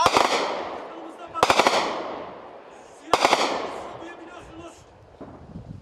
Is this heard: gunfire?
yes